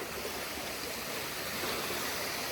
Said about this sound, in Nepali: यहाँ पानी फाल्दैछ